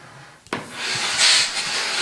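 A Rowenta steam iron releases steam after a sharp click, a continuous breathy hiss that swells louder in the middle and stays steady, close by with no speech.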